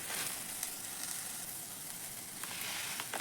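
Roasted chana dal sizzling in a pan with onion and coconut, a soft continuous hiss with faint occasional stirring scrapes, fairly quiet and without talk.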